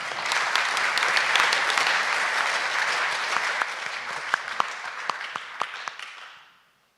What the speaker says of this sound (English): Okay, then it's time for another big applause for Callum